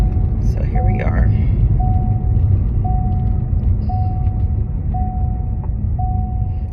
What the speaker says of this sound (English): Sorry about the seatbelt beeping noise